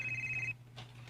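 A telephone rings with an incoming call, one steady electronic trill lasting about half a second, moderately loud over a low background hum, then cutting off; no one speaks.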